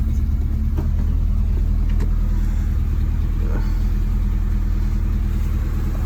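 A truck engine with a full long-tube header exhaust runs steadily after a cold start, a loud, continuous close-up drone with a low, even rumble throughout.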